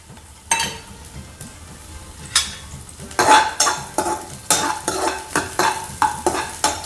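Onion and chili sauté in a pan while a spoon stirs, scraping and clinking against the metal in quickening strokes over a soft sizzle, with nobody talking.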